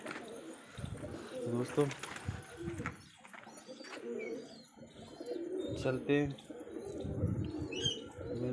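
Pigeons coo and chirp in soft, intermittent bursts close by, with occasional rustles, while someone talks over them.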